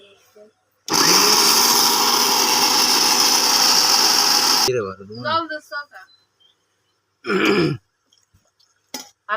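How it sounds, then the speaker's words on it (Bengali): A blender whirs loudly at home for about four seconds with a steady, dense motor drone, then stops; afterward a person speaks and makes short throat-clearing sounds. "এখানে ব্লেন্ডার করা হচ্ছে।"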